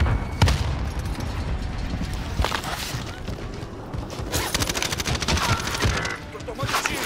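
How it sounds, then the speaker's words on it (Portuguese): Grenade blast in a tactical multiplayer shooter, a heavy boom among rolling gunfire and impacts, with several further sharp bursts and explosions spread through a dense, loud battle soundscape; players talk over the action. "Lançando granada."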